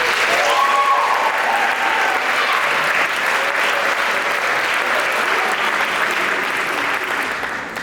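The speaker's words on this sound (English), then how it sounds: "Just give Tila a round of applause." A crowd at a school winter and spring sports awards ceremony applauds loudly and continuously for about eight seconds, a dense wash of clapping that tapers slightly at the end, with no speech over it.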